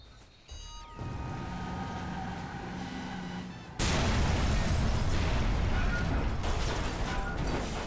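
In the PC game Watch Dogs, a mechanical hum builds, then a sudden loud explosive blast erupts into a sustained roaring rumble that continues at full volume.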